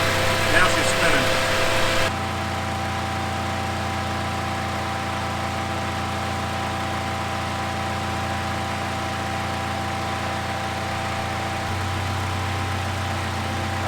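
A 2006 Mitsubishi Eclipse with its AC compressor engaged after a Freon recharge, giving a steady droning hum with a constant whine over the idling engine; a brief voice is heard at the start, then the running noise continues alone.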